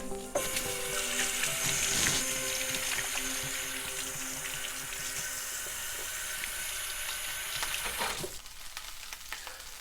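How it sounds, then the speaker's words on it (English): A kitchen tap runs steadily as hands are washed, making a continuous splashing hiss that stops abruptly near the end, with no talking. "I'm definitely going to need to wash my hands."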